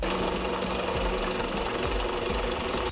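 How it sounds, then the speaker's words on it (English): A drill press drilling, heard as a dense, continuous mechanical rattle and whir, loud and close for the whole stretch, then cutting off at the end, with no voices. "Normally, when you're using a drill press, it makes a big mess"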